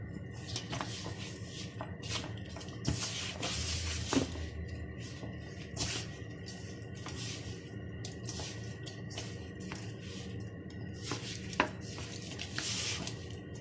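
Pizza dough for a vegetarian pizza being mixed by hand as flour and wet dough stick together, giving close, soft, sticky squelching and slapping with small irregular clicks throughout.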